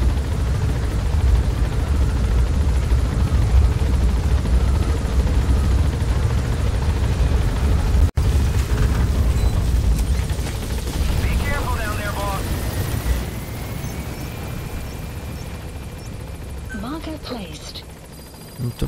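Helicopter in the video game Metal Gear Solid V: The Phantom Pain, a continuous rotor rumble that fades somewhat midway, with game sounds and a brief voice near the end.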